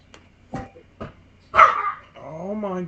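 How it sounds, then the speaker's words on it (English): A dog gives a few short, sharp barks spaced apart, then a louder bark and a drawn-out whimpering whine, close and clear against silence. "Oh my gosh, dog."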